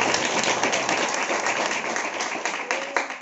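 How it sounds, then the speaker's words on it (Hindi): A congregation at a Hindi-language church sermon applauds loudly, with dense, continuous clapping that holds steady for the full stretch, with no talk over it. "जोरदार ताली बजाएंगे"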